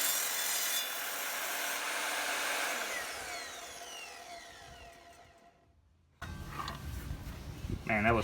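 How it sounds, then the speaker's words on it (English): An Evolution R255SMS 10-inch sliding miter saw cuts through wood, a loud steady whine with grinding friction that tapers off as the blade winds down, then a brief silence before sharp handling noises. "I've never cut with this saw yet, so we're going to give it a shot."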